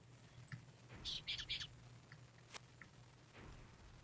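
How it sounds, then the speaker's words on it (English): A parrot in the video game Mother 3 gives a quick cluster of bright chirping calls, then a few scattered faint tweets over a low steady hum. "here's that parrot from"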